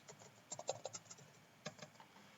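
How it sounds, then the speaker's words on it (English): Login credentials are typed on a computer keyboard in a quick, quiet run of light key clicks, a short pause, then a few more taps. "Okay, I'm typing my credentials."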